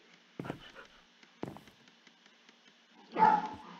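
A dog in the Minecraft video game barks, with two short soft barks followed by a louder whimpering yelp near the end, against a quiet background.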